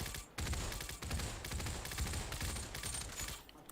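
Rapid pistol fire from a shooter working through recoil control, heard as a quick string of sharp reports that run together into a dense, fairly distant burst lasting a few seconds.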